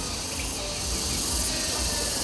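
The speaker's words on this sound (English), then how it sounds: "you hear the crickets, you hear the birds" Dense, steady insect chirring fills the background at a constant level, a chorus of crickets outdoors near waterfalls, with no voices.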